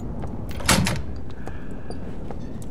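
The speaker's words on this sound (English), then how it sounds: "Guess who just opened a door?" A door opens in the horror video game Doors, a short sharp creak and thud near the start followed by quieter clicks and room ambience, with no talking.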